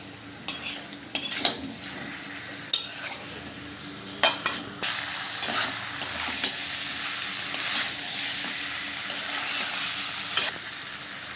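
Chicken pieces and pre-fried potatoes stir-fried in a hot pan for a Bengali chicken curry, with a steady sizzle and repeated sharp scrapes and clinks of a spatula against the pan.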